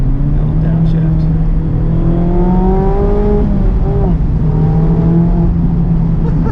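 Exhaust note of a 2019 Mazda MX-5 Miata with a RoadsterSport Helmholtz muffler, a loud steady engine drone that shifts pitch through a quick downshift and blip, with a voice talking over it.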